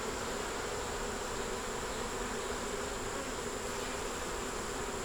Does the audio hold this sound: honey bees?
yes